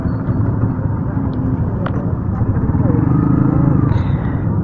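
A motorcycle rolling along a road, its engine a continuous near rumble that swells slightly toward the end, mostly beneath a rider talking.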